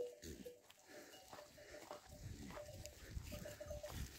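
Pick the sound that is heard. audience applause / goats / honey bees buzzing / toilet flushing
goats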